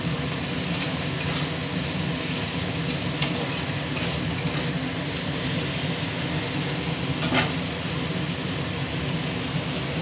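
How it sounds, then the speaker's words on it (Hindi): Ingredients for prawn khichdi are stirred and sautéed in a pan, producing a steady, close sizzle and hiss with occasional clinks and scrapes of a spoon, no talk. "ऐसे चला रहे हैं, इसको अच्छे से सौते कर रहे हैं"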